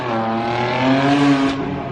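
Several cars rev hard and pull away together as a car meet breaks up, a loud, sustained engine roar with rising pitch swelling in the middle and easing off, no talking over it.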